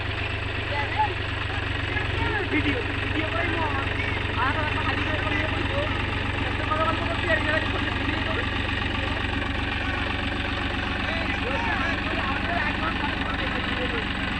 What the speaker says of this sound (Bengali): দেখুন আলু লাগানো মেশিনে কেমন আলু লাগানো হচ্ছে